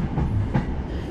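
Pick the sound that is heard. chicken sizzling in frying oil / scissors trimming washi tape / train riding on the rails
train riding on the rails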